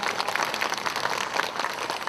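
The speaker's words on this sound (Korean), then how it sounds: "응원의 말씀 주신 호산 스님께도 큰 박수 부탁드리겠습니다" Audience applause at the opening ceremony of a Buddhist culture festival, a dense, steady wash of many hands clapping close by throughout, with no voices.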